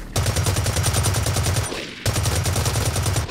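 AK470 rifle fire in the video game Blacklight Retribution on the Heavy Metal map, two loud sustained automatic bursts with a brief gap between them, close and dominant.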